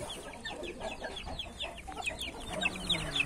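Chickens and chicks, including a naked-neck bird, cluck and cheep on a hot day, with a steady stream of small high peeps over a low, busy farmyard background.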